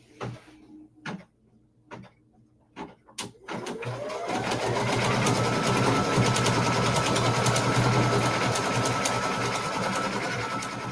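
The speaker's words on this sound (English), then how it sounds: "Let's stitch the girl." A Brother-style embroidery sewing machine stitches an appliqué design, starting with a few separate clicks and thumps, then running as a steady, fast, close mechanical whirring chatter that continues to the end.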